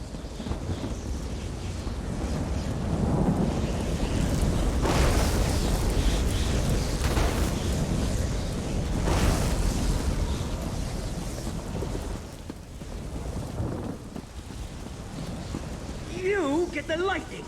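Lightning spell crackling and rumbling in Elder Scrolls Online, broad roaring bursts around five and nine seconds over continuous low rumble, with a voice talking through it.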